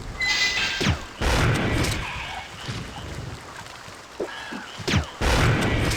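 A fight against hunters in Resident Evil 3: Nemesis brings repeated heavy thuds, smashes and gunshot-like bursts at irregular intervals over a rumbling game background, loud and close.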